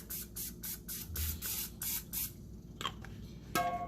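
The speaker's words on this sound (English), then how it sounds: "Just give it a nice little spray." A series of short hissing bursts from a cooking oil spray can onto a baking pan, about eight quick sprays in a row, followed by a few light clatters and handling noises.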